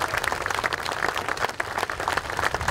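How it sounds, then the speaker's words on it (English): An audience at a cooperative members' day event applauds the staff, with steady, dense clapping throughout, moderately loud and without talk. "Let's just give all of them a round of applause for what they did."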